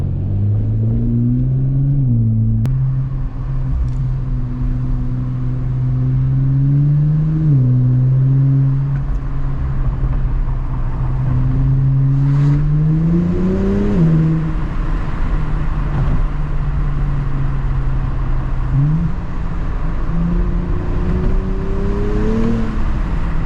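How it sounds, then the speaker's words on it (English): Subaru BRZ with an aftermarket exhaust warming up late at night downtown, a loud, close, continuous low engine rumble with several gentle rev rises and falls. "I need to get my car warmed up a little bit"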